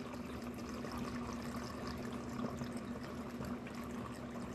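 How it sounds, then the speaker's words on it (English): Liquid poured off the top layer of a steaming bleach mixture during chloroform making, mostly water and salt, runs as a steady, continuous trickle and splash that holds at an even level throughout. "I'm going to pour off the top portion, which would be mostly water and salt"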